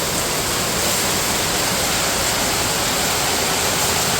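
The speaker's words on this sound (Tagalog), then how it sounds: "Lakas ng ulan!" Heavy rain pours down under a dark sky, a dense, loud, unbroken hiss of falling water that stays steady throughout.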